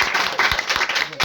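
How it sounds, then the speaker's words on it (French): A school audience claps for a winning quiz team at a lycée reception, a brief burst of scattered hand claps. "Applaudissez, c'est ça."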